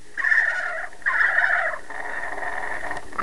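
A recorded turkey gobble plays twice in quick bursts, then trails into a softer sustained warble, loud and clear with no talking over it.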